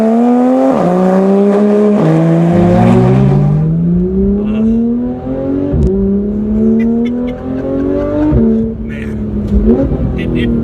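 A Porsche 911 GT3 RS engine revs hard on the road, loud and close, its pitch climbing through several gears with sharp drops at each upshift, while a voice speaks over it.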